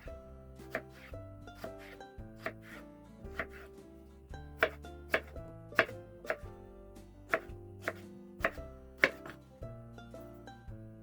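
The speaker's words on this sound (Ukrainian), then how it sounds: "Гарбузик нарізаю ось такими брусочками." A knife chops repeatedly through firm pumpkin, cutting it into sticks on a cutting board, sharp even strikes coming in steady succession, close and clear with no talking.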